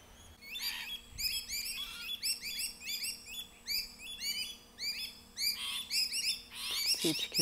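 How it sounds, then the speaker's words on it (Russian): Small birds chirping and tweeting at sunrise near a corner of blooming orchids, a rapid series of bright, repeated calls in close, clear bursts with a faint steady hum beneath and no talking. "Птички поют, солнышко встает"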